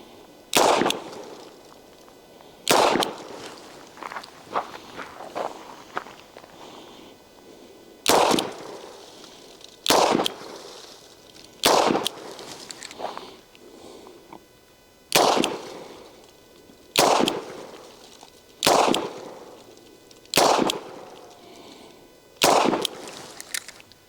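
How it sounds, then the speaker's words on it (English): A Smith and Wesson 360 PD revolver fires .357 Magnum rounds, about nine loud, sharp, separate shots spaced a second or two apart, with quieter handling sounds between them and no talking. "I'm going to put those 357 Magnums in it."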